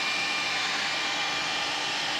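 Heat gun blowing hot air at strong heat onto EVA foam for prop making, a steady broadband hiss that stays constant and close throughout with no talking.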